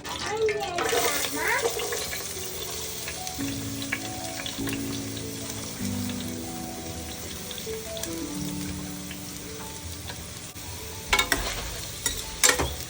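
Chopped onions added to hot oil with cumin seeds for a mutton curry, a steady sizzle with a splash at the start and clatter near the end, while someone talks over it.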